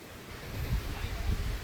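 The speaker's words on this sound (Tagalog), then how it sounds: "So napakalakas ng hangin po dyan." Strong wind roars and buffets the microphone in low rumbling gusts, with what may be surf in the background.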